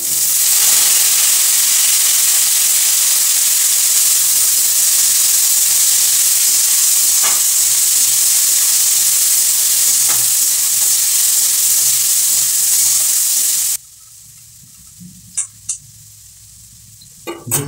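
Jackfruit dropped into a hot pan for a vegetarian Bengali dish sets off a loud, continuous hissing sizzle that runs steadily, then cuts off abruptly, leaving a few faint clicks and knocks.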